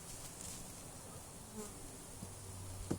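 Honey bees buzz steadily around an open hive during a split, a continuous close hum of many insects with a brief low thump near the end.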